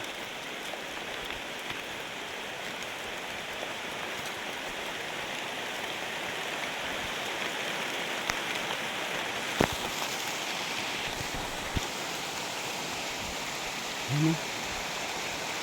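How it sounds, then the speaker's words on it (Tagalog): Steady rain falls on a mountain as a constant hiss of dense drops, with a few faint thumps and brief noises late on. "Inabot na tayo ng ulan mga kabundok."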